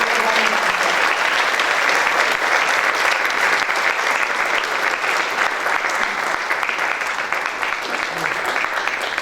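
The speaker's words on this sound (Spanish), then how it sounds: "pido un fuerte aplauso a esta universidad" Sustained, dense audience applause fills a university hall at a book presentation, loud and steady throughout with no break.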